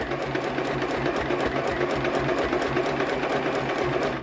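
A sewing machine runs continuously and loudly, stitching a pillow made from drying mats with a sublimated image, its rapid needle chatter pulsing in an even rhythm throughout.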